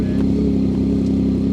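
A GE CF6-80 jet engine on a Delta Airbus A330 airliner roars at takeoff from Minneapolis–Saint Paul airport, a loud, steady low rumble heard without a break.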